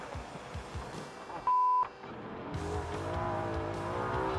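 An off-road race car drives through soft sand in the Australian outback, its engine droning steadily and rising toward the end, with a brief electronic beep partway through.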